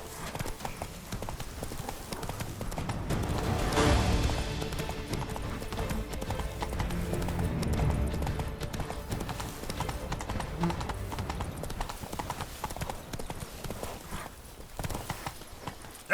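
Roach, a horse in The Witcher 3, gallops with a steady, rapid clip-clop of hooves that runs the whole time, set against game ambience and a faint voice.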